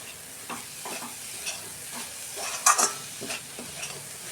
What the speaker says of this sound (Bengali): দুটো এলাচ দিচ্ছি আমি ফাটতে।